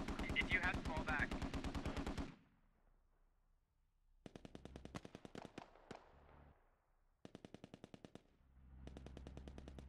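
A DShK heavy machine gun rattles off long bursts in the combat game Squad, loud rapid automatic fire in several strings separated by short pauses, with more bursts echoing across the field.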